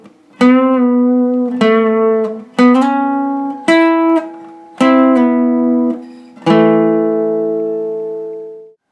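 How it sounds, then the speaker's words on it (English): Slow, clean guitar notes pick out the riff, each struck note or chord ringing alone and close before the next, six distinct attacks with the last left to decay. "Here's that riff played slowly."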